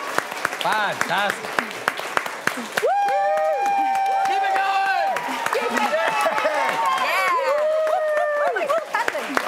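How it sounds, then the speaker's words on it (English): Children's applause and cheering at a school science show, a crowd clapping under a presenter's voice, with whoops and shouts over steady clapping throughout. "Give yourselves a huge round of applause."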